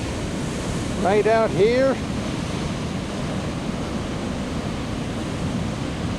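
Ocean surf on a beach at Yachats, a steady broadband wash of waves mixed with wind noise, with a short spoken remark near the start.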